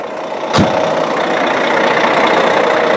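Diesel engine of a Hyundai Universe Noble bus idles steadily with its DPF emissions system fitted, a loud, close, even rumble after a brief sharp knock near the start.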